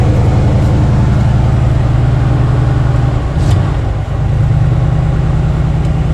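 A 1978 GMC one-ton squarebody dump truck with a V8 and four-speed idles steadily after a cold start, a loud, close, continuous low rumble with a brief dip midway and no talking.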